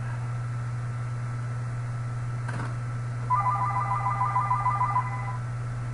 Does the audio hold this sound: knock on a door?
no